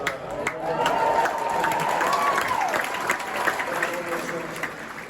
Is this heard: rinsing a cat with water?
no